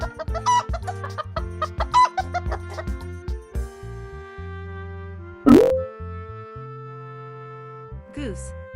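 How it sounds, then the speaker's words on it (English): Chicken clucking in a sequence of animal sounds, with a short sharp call around the middle over steady background music, moderately loud. "Chicken."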